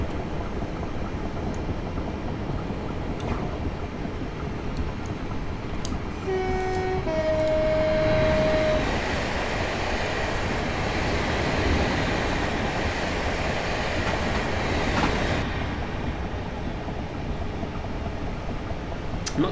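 Passenger train in Train Simulator 2018, Guildford to London Waterloo service, rumbling steadily with a loud broadband roar throughout, a two-tone horn sounding briefly around the middle.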